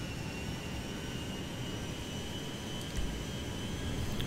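Aircraft engine in GTA 5 role-play flight bound for Heathrow: a steady, broadband jet-like roar holds throughout at a constant level, swelling slightly near the end, with no talking.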